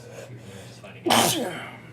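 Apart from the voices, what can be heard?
sneeze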